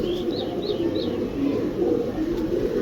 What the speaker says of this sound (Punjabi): ਇਹ ਸਲਾਰਾ ਕਬੂਤਰ ਲੈ ਲਵੇ ਜਨਾਬ